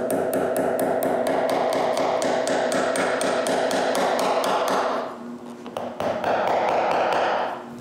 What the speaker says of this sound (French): c'est le temps de clouer la partie avant